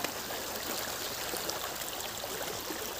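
A shallow stream flows steadily at an outdoor bathing spot, making a continuous broadband rush and babble of water with no pauses or voices.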